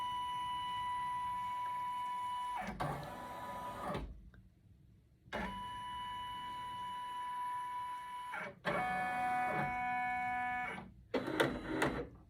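An embroidery machine scans a design, giving steady electronic whirring tones in long runs broken by short pauses and clicks, fairly quiet and close with no voices.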